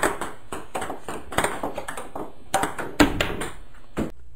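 A ping pong ball bouncing in quick, irregular taps, a rally of bright clicks that stops abruptly near the end.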